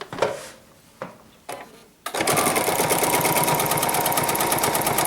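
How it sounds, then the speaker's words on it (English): A BERNINA 880 sewing machine stitching a side seam, with a few soft handling knocks at first, then a sudden steady, loud, rapid stitching rhythm running continuously to the end. "Now I'm going to sew down from the bottom."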